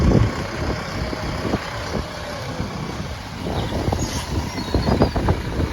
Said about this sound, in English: we have now got a caravan just parked back on a tractor